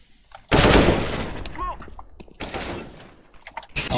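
Loud bursts of rapid automatic gunfire from a Counter-Strike: Global Offensive match, one long burst followed by a shorter one, with clicks and game noises between and a player's voice heard alongside.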